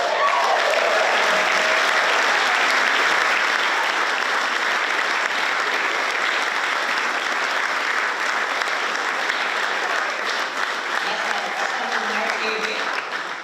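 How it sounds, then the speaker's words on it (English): Players cheer and applaud loudly in a room at an AFLW best and fairest awards night, a dense, steady wall of clapping and whoops lasting throughout, with voices shouting within the crowd noise. "the cheering and the loud applause you hear in the room is from the players themselves"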